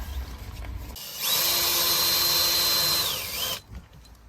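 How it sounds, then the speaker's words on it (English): A power drill drives a screw during dash cam installation in a Hyundai Ioniq 5, giving one close, loud whirring run of about two seconds that winds down at the end, with quieter handling noise before and after. "Just gonna screw in one into there."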